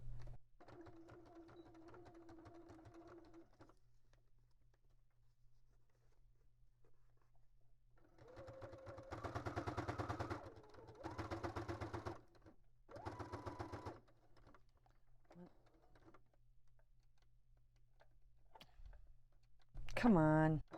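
Sewing machine running a straight stitch through a thick tear-away notebook for a railway junk journal, sounding in several close whirring bursts separated by pauses, with a person speaking at times.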